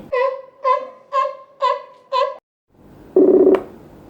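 Five short telephone keypad tones in an even rhythm, followed after a brief pause by a louder buzzing ring tone.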